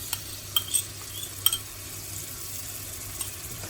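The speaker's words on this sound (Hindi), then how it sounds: "हल्का सा ऑयल आपका गर्म हो तो इसमें आप डाल दें तकरीबन 1 टेबल स्पून के करीब ये मैंने गार्लिक पेस्ट लिया था" Garlic paste sizzles in hot oil, a soft continuous frying hiss broken by a few sharp clicks and taps of a spoon against the pan, close and fairly quiet.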